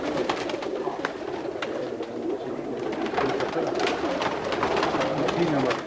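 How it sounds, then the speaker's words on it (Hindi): Domestic pigeons coo softly and repeatedly close by, their low, throaty calls overlapping with wing flutters and faint background voices. "और उड़े उड़े मेरे कबूतर थे।"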